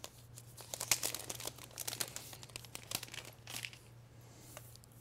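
Plastic wrap crinkling and tearing as a new black 64 GB Wi-Fi iPad is unwrapped; close, faint, irregular crackles over about five seconds with a steady low hum beneath.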